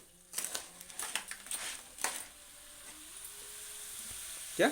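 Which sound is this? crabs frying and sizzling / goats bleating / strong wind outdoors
crabs frying and sizzling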